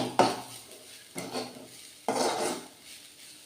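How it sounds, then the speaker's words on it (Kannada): Ground coconut masala being fried and stirred in oil, with three separate scraping strokes of a utensil against the pan and a light sizzle, close by. "ಹಸಿ ವಾಸನೆ ಹೋಗಂಟ ಎಣ್ಣೆಯಲ್ಲೇ ಸ್ವಲ್ಪ ಫ್ರೈ ಮಾಡ್ಕೋಬೇಕು"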